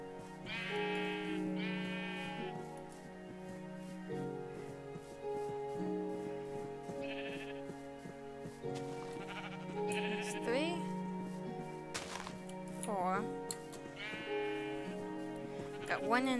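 Blocky Minecraft sheep bleat in several separate calls spread across the scene, close and clear over game music, while a player talks throughout.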